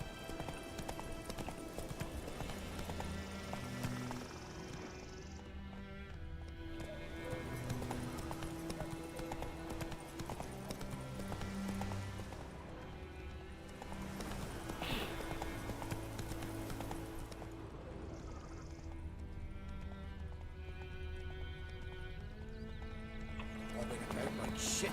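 Roach the horse galloping in The Witcher 3: quick, rhythmic hoofbeats pounding steadily up close, with game music and brief spoken lines from characters underneath.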